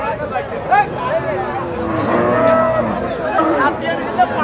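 A native bull at a busy cattle market lets out a loud, drawn-out moo with a couple of shorter calls, close by, while people talk in the background.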